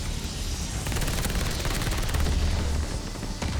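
Rapid PPSh-41 submachine gun fire in Call of Duty Vanguard, continuous loud close bursts of automatic shots rattling nonstop, with no voices.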